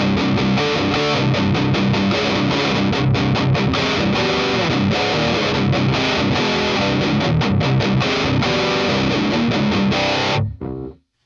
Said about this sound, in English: this one brings the chubbiness of the distortion that I really like